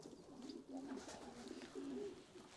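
Domestic pigeons on the roof of a pigeon loft give soft, low, rolling coos repeating in short phrases, fairly quiet against a light outdoor background hiss, with no talking.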